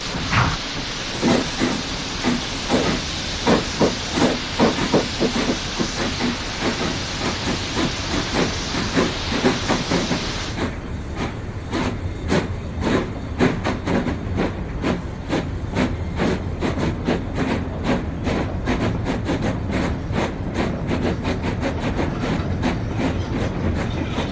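Steam locomotives Wilbur and Warrington haul a loaded minerals train on the Island of Sodor, with continuous loud steam hiss and rapid, rhythmic exhaust chuffs rolling on steadily throughout.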